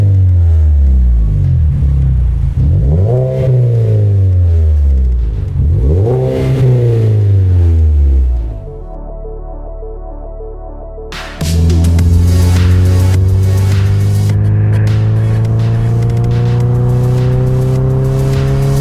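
A 2014-2018 Mazda 3 fitted with a CorkSport 80mm T304 stainless steel cat-back exhaust revs loudly twice, settles briefly to a lower idle, then pulls away in a long, rising acceleration with a raspy drone.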